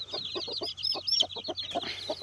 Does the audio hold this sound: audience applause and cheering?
no